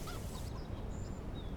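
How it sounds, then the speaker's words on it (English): Farm birds in the video game Farming Simulator 25, a faint honking, goose-like cackle from poultry at the farm over steady low ambient hum, with brief distant calls scattered through. "let's look at the chickens now"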